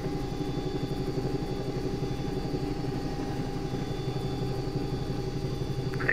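A Bell 222 air ambulance helicopter in the X-Plane 11 simulator runs its engine with a loud, steady rotor thrum and turbine whine, a continuous pulsing beat held alone for several seconds.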